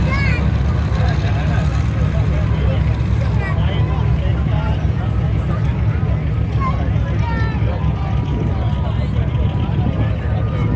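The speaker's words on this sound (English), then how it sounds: "Radial engines, gotta love it." Historic radial-engine aircraft roar steadily and loudly at an airport event, a continuous dense engine drone with crowd babble mixed underneath throughout.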